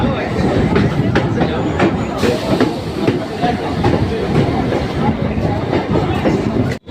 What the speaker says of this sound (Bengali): নৈহাটিতে এক মিনিট হল্টের পর নৈহাটিতে ট্রেন ছেড়ে দিয়েছে